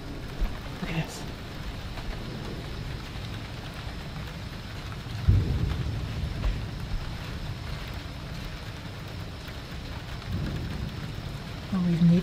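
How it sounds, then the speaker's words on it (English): Steady rain pours down during a thunderstorm, a constant hiss of drops with low rolling rumbles of thunder swelling around the middle and again near the end, heard from indoors by an open window. "Well, we've needed the rain."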